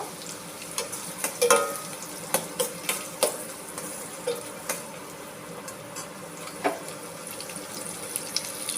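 Chopped onion and green chilli fry in a pan, with a soft steady sizzle broken by scattered scraping and clinking stir strokes that come and go over several seconds.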